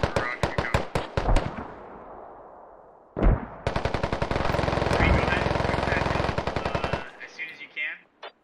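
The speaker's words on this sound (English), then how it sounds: "Shots fired over here" Gunfire in the military shooter Squad: a string of sharp single shots, a heavy blast, then a long rapid automatic burst. Players talk faintly beneath the firing.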